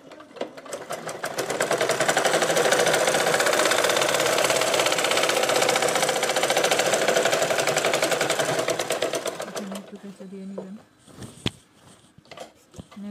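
A sewing machine stitching salwar pants runs in one steady, fast whirring burst for several seconds, then stops, leaving a few faint clicks and handling sounds.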